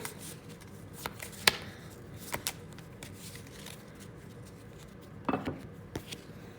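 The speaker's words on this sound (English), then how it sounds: "Now I got to shuffle." Playing cards for a solo board game session are shuffled with scattered soft riffles and sharp clacks at an uneven pace, close by and fairly quiet, with no talking.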